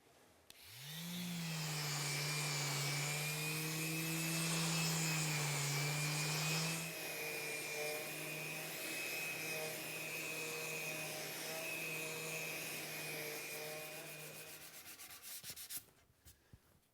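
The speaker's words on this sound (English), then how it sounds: "As I was sanding the frame" Steady, continuous abrasive whirring of a power sander working on a wooden table frame, loud and close, with a constant hum that drops slightly midway before cutting off near the end.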